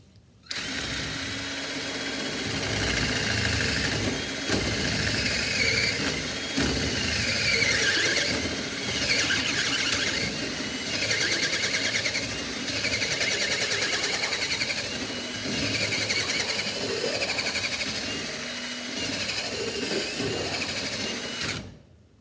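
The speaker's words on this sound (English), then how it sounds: "go ahead and get that hole drilled all the way through" A drill bores a hole through lead ballast for a boat's centerboard pin, a loud, continuous high-pitched squeal and grinding that holds steady with slight surges for over twenty seconds.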